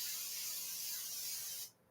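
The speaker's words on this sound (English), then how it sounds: "So we're going to spray it again." Cooking spray hisses into a pan in a single steady, close burst of under two seconds, then cuts off sharply.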